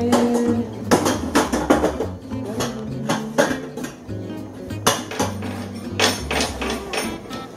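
A metal pot is handled in a home kitchen while making plant-based mozzarella, giving a rapid series of clanks, knocks and scrapes, close and fairly loud, with no talking.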